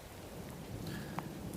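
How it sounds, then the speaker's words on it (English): Steady rain pours down during a morning at Sunset Beach, a constant soft wash of drops with no voices. "And the rain is a-coming down on me"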